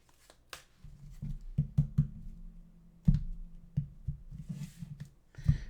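Tarot cards being shuffled by hand, heard as soft, close riffles and taps in irregular bursts over a low thumping handling sound, fairly quiet and with no talking.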